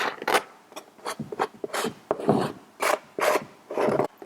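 A hardware-store painting trowel scrapes paint across a canvas in a series of close, distinct rasping strokes, each a short scratchy drag separated by brief pauses, with no voices.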